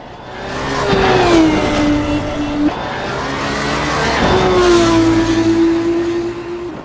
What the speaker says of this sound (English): On now to the Formula 2, so one step up from the Formula 3 we just saw